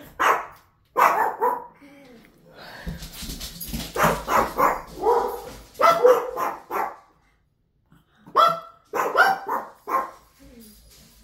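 Pekingese dogs bark in a series of sharp, close yaps and yips, coming in short clusters separated by brief pauses, while a person talks to them between the barks.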